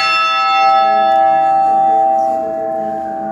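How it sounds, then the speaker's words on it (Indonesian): A church bell rings with a long, ringing tone that sustains and slowly fades, heard clearly and loud with no voices over it. "3 kali lonceng pendek."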